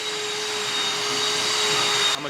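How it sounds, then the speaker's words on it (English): A vacuum cleaner runs steadily in a back room during a show car build, a continuous broadband whine with a faint tonal hum, holding level for a couple of seconds before cutting off abruptly near the end. "she's currently back there vacuuming. You can hear it."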